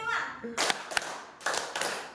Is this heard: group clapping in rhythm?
yes